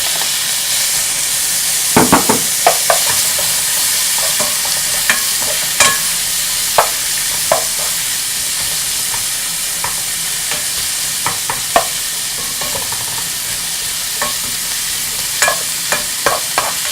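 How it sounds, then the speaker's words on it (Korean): Pork belly and mixed seafood stir-fried for yaki soba hiss loudly and steadily over high heat, while a spatula knocks and scrapes the pan in irregular bursts throughout, close up and without talk. "삼겹살 어느 정도 익으면은 모듬 해물 넣어주시면 되겠습니다"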